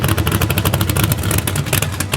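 A built Chevy drag car engine with Carrillo rods runs steadily up close, a loud, crisp, rapid-firing idle with a fast, even pulse throughout.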